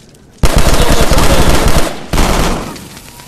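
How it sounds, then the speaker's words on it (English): Burst shotgun firing in Call of Duty Black Ops 2 Zombies, played in VR: a loud, rapid rattling volley of shots that starts abruptly, pauses briefly, then resumes and fades, with no talking. "Oh, you got the burst shotgun?"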